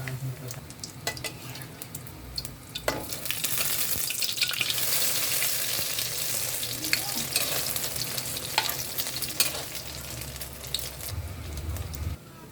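Dilis, small anchovy-like fish, fry in oil with a loud, continuous close sizzle and crackle, broken by occasional scrapes and taps of a utensil in the pan.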